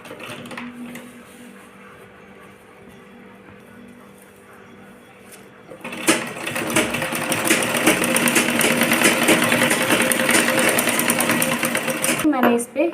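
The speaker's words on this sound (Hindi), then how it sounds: "इस तरह से दोनों को हम किनारे किनारे पे यहाँ पे सिलाई लगा लेंगे इस तरह से" A sewing machine stitches along the edges of a skirt's net and lining, starting about halfway through with a loud, fast, continuous whir. Before that there are quieter handling sounds, and a voice talks over parts of it.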